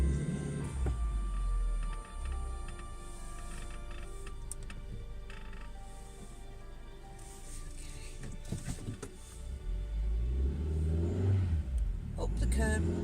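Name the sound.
car driving up a curb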